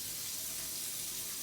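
Water runs steadily from a kitchen sink tap, a constant close hiss and splash with no pauses.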